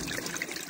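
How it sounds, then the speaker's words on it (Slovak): Water from the Zubrovice mountain spring trickles and splashes into a container, a close, continuous pouring with small bright drips and no talking. "Práve začínam naberať vodu z pramene Zubrovice."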